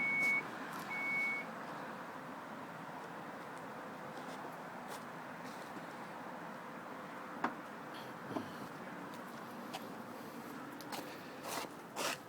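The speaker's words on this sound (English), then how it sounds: "And to close the rear gate has a button right there." A 2014 Chrysler Town & Country power rear gate closes, opening with a short repeated warning beep, then a faint motorized hum and soft mechanical clicks as it travels, ending in a few small latch knocks, all quiet and close.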